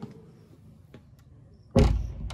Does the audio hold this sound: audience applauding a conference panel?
no